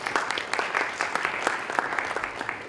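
A crowd applauds steadily at a tech conference talk in Armenia, dense overlapping clapping that stays even for the whole stretch.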